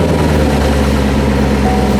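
A supercharged Corvette C7 engine running loud and close just after starting, a steady low rumble with no talking.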